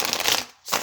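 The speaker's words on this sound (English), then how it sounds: "We're just going to do 2 shuffles because there's often 2 different fates." Tarot cards riffled in a quick shuffle, a close crisp rustle that pauses for a split second and then starts again.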